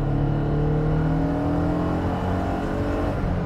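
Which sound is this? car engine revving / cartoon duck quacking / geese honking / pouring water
car engine revving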